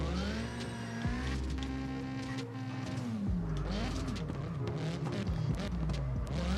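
Simulated drift car in CarX Drift Racing 2 holding a steady, loud engine drone that rises and falls with throttle, with a wavering pitch from clutch kicks and tire slip, no voices.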